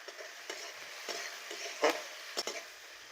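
Spices and capsicum for garlic pabda fish curry are sautéed and stirred in a pan, a soft sizzle broken by a few short scraping strokes, close and fairly quiet.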